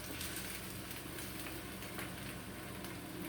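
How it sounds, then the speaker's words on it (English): Cabbage fries in a pan, a faint, continuous crackling sizzle with small pops, steady throughout and with no talk. "I'm just going to keep on frying."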